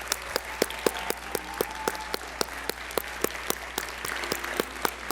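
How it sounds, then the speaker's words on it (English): Audience applause for students at a Black Excellence Awards ceremony, a steady patter of individual claps from a moderate crowd in a hall, sharp distinct hand claps standing out over a low background hum. "Let's give these incredible students one more round of heartfelt applause."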